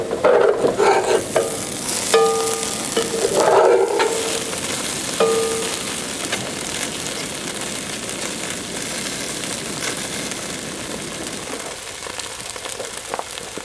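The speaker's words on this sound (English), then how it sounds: "I'm frying frozen hamburger." Frozen hamburger fries in a pan with a continuous crackling sizzle, along with some scraping stirring and short clattering noises early on, then a steadier sizzle that fades slightly toward the end.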